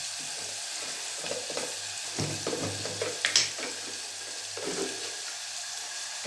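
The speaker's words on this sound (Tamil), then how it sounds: "கொஞ்சம் வெங்காயம் பொரியட்டும், கொஞ்சம் வதங்கட்டும்" Onions frying in a pan for bitter gourd kootu, a steady close sizzle with occasional stirring scrapes and a brief spatter, no voices.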